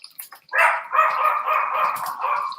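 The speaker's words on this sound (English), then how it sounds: "Can you hear those dogs? They're ridiculous, aren't they?" Several dogs bark and yip nearby in an excited, overlapping burst that runs for about two seconds after a few short sharp sounds, with no talk over it.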